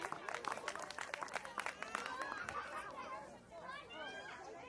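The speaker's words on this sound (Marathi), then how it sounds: "टाळ्या झाल्या पाहिजेत प्रदीप वैद्य सरांसाठी" Audience applause for Pradeep Vaidya at a music night event, a crowd clapping and chattering, with dense claps that fade into murmuring voices.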